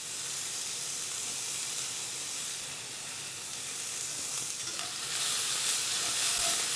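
Ground beef browning in a big pan, a continuous close sizzle and crackle with occasional stirring and scraping, growing a bit louder and hissier toward the end.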